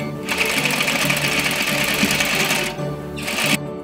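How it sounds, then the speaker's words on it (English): A sewing machine stitches trim onto an 18th century style gown: a loud, close, steady whir that drops out briefly near the end, picks up again, then stops. "Working on stitching the trim down."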